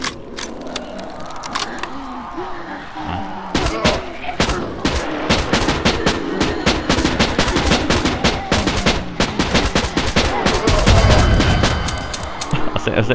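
Gunfire from the zombie survival game 7554 rattles in dense, rapid bursts of loud close shots, with an explosion-like thump near the end and a voice talking underneath.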